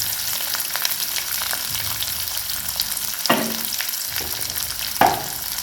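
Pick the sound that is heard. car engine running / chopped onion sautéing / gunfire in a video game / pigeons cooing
chopped onion sautéing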